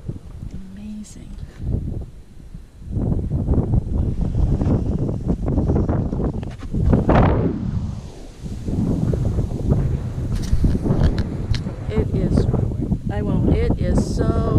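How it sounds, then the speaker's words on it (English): Strong Minnesota prairie wind buffets the microphone in heavy, gusting bursts while a person talks over the roar. "It is so windy."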